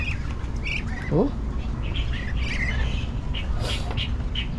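Ducks squawk and call in a few short bursts over steady low background noise, with a brief voice heard once.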